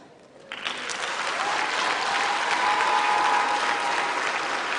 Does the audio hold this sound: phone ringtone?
no